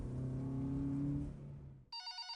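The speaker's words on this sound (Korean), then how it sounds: "경찰서에서 전화벨이 침묵을 깨뜨렸고" A telephone rings at a police station as a sound effect, its bright electronic trill entering near the end after a rumbling, fading low noise, clear and close.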